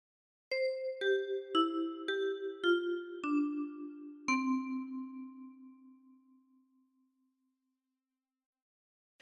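Plucked metallic tines of a ten-key kalimba play a slow, gentle melody of Silent Night, each note chiming and ringing out, the last note fading away into silence.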